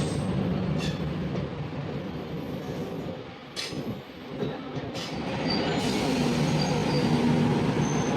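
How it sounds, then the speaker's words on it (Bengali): A DEMU train at Sonipat Junction station, with a steady low rumble of engines and wheels plus a few sharp metallic clanks and squeals, continuous and close throughout. "এদিকে একটা ডিএমও ট্রেন দাঁড়িয়ে আছে, এই ট্রেনটা এখন যাবে জিন্দের দিকে"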